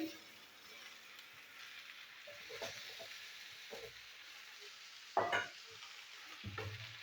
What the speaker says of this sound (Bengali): লাউ কাটা লাউগুলো দিয়ে দিচ্ছি